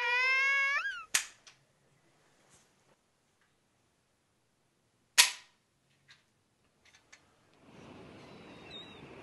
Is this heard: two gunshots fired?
yes